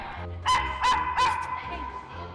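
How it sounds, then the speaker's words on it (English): A few sharp puppy barks in quick succession, fairly close, over a steady background hum at a pet adoption event. "we started having problems with all of the puppies barking"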